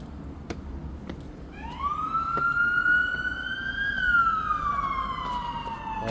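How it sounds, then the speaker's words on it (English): A police car siren wails in a long rising and falling tone, moderately near, over steady street traffic noise on a night street in Ottawa after rain. "We got an emergency vehicle responding."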